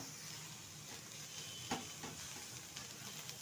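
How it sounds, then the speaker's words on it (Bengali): Shredded cabbage frying in a pan for a vegetarian dish, with chopped tomato and coriander leaves added, giving a quiet, steady sizzle broken by a few soft stirring clinks. "আজকে নতুন স্বাদে কিন্তু এটা আমি বাঁধাকপিটা ভেজে দেখাচ্ছি"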